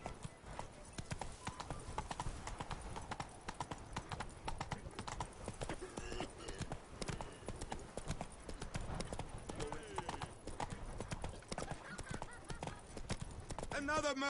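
Horse hooves clip-clop in a steady galloping rhythm throughout, the ridden horse in The Witcher 3: Wild Hunt on PS4, with game music and a voice running underneath.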